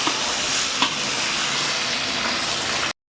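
Chopped tomatoes hit a pan of dried chillies and five-spice seeds for khichdi, giving a loud, dense, continuous sizzle with a stirring clatter, then cutting off abruptly.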